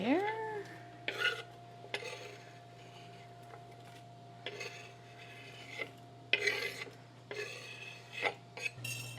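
A KitchenAid spatula stirs chopped onions in extra virgin olive oil in a pan, giving intermittent scraping and rubbing strokes over a low steady hum, close and quiet, with no talk.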